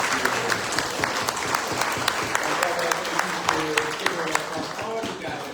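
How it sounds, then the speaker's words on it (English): A crowd in Leeds, UK applauds, many hands clapping steadily and fairly close, holding a dense, even rhythm throughout. "Let's give her a big round of applause."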